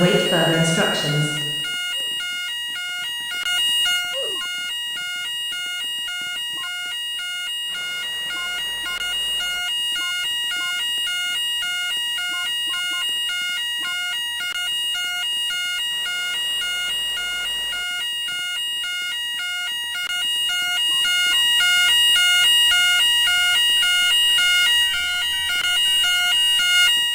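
A store fire alarm in the RoMart shopping video game rings continuously with steady repeating electronic tones, loud and sustained throughout, with a brief burst of other noise at the start.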